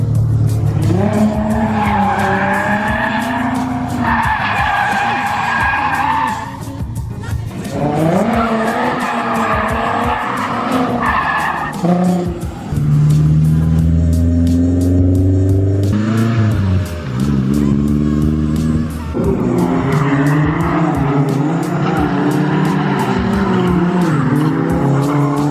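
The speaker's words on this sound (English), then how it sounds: "Was the first skid good?" A car drifts with loud sustained tire squeals and skidding while its engine revs and rises in pitch through repeated slides, close and continuous throughout.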